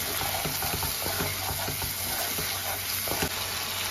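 Potol and prawn masala with salt and sugar stirred in a pan, a steady close sizzle of frying under repeated scraping strokes of a spoon moving through the thick mixture.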